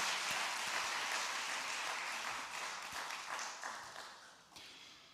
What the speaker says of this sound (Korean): 우리 살아계신 주님께 영광의 박수 드리겠습니다